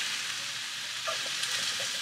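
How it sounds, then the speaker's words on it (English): Kale with a splash of water sizzles steadily in a pan, a dense hissing crackle with a few faint stirring sounds, close and continuous with no talking. "And that helps soften the kale and cook it."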